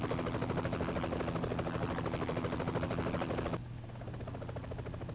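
A small plane flies in the Broforce video game, its engine a steady, close, pulsing buzz that drops to a quieter drone near the end, with no talking.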